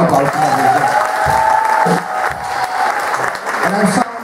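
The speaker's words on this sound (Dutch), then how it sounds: "Geef hem alvast maar een applaus." Audience applause at a school performance in Winsum, sustained clapping from a crowd lasting throughout, with a voice and some tonal sound mixed underneath.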